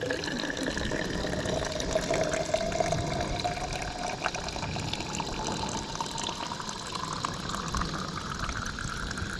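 Water runs steadily from a refill station at Kew Gardens, a continuous close hiss and splash filling the whole stretch at moderate level with no break.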